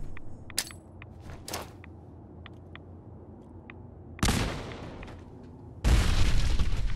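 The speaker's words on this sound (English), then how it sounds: "probably gonna start chucking grenades down here" Two heavy blasts from thrown grenades in Fallout 4, each a sudden broadband burst that lingers as a rumbling tail, following several faint clicks and small game sounds.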